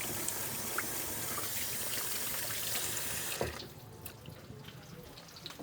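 A pan is washed under a running kitchen tap, a steady close rush of water with faint clinks and scrubbing, then the flow drops to a softer trickle and drips.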